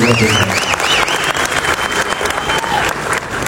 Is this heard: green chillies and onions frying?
no